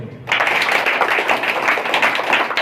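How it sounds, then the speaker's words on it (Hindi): Audience applause at a Children's Day event, a dense burst of many hands clapping that starts abruptly and holds steady and loud to the end. "उनके लिए जोरदार ताली हो जाए"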